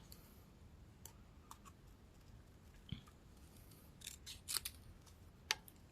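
Scissors snip paper leaves for a rose craft kit in a few quiet, sharp close-up cuts separated by pauses, with faint handling clicks and no talk.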